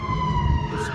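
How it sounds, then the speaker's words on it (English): A fire engine siren passes outside, a loud sustained wailing tone that holds steady and rises slightly near the end over low traffic rumble. "It's a fire engine. Obviously, fire somewhere."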